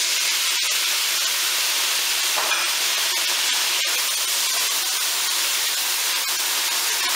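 A soy sauce and sugar mixture hits a hot pan while cooking kale and sizzles loudly, a steady dense hiss with a few crackling pops throughout, with no speech over it.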